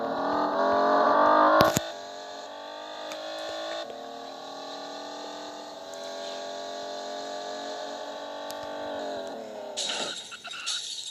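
Cars drive with steady engine hum in a 3D driving-class video game, with a loud crash-like burst near the start and a clattering impact toward the end.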